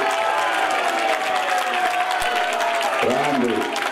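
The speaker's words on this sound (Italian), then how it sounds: "Facciamo un applauso a questi bellissimi ragazzi che stanno giocando" Crowd applause rises from spectators at an Under 14 rugby match between Piemonte and Liguria selections, continuous clapping with a voice breaking in near the end.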